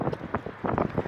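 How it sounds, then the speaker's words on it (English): Gusty outdoor wind buffets the microphone in uneven low rumbling bursts, loud and close, with no talk over it. "it's not too windy, it's real windy."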